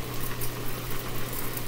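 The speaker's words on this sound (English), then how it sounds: "greens are boiling" Greens boiling in a pot on a stove while cooking a Southern dinner, a steady dense bubbling and hiss with a low hum underneath, close and continuous with no talk.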